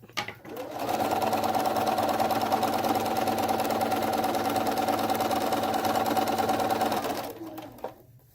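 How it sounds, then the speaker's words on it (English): A sewing machine runs a straight stitch along a quilt border seam on a hexagon quilt, a loud, steady mechanical whirr close by that holds for about six seconds before stopping. "just follow down where you heavily creased from the iron and sew that seam up"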